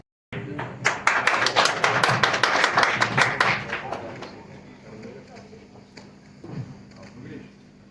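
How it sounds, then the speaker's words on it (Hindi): A crowd at a welcome event for a Rajya Sabha MP in Gurugram claps loudly in dense applause for about four seconds, then the clapping thins out into scattered claps with murmuring voices underneath. "जोरदार तालियों के साथ स्वागत।"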